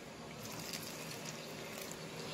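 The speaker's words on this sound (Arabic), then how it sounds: "هنزل بقى بالمج ميه" Warm water poured from a 250-gram mug into flour for manaqish dough, a steady close trickle and splash running without a break and without talk.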